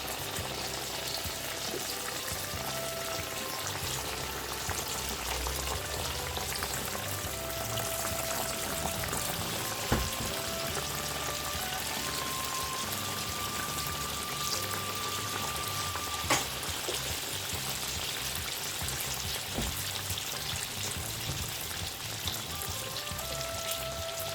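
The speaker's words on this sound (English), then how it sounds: "start adding the donut for frying" Steady crackling and sizzling of doughnuts frying in hot oil over medium heat, continuous and close, with occasional sharper pops.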